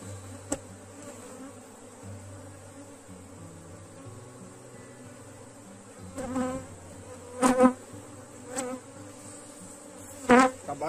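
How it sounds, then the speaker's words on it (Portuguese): A swarm of honeybees buzzes steadily while being gathered, with a low hum throughout and a few louder passes of bees close by. "Até tentar pegar aqui um bocado dessas abelhas."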